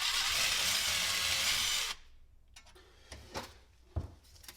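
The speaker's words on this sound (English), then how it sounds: "need to drill this out with a 3/32 drill bit" A power drill with a 3/32 bit runs loud and steady on a metal rod for about two seconds, then stops, followed by a few light knocks and clunks of handling nearby.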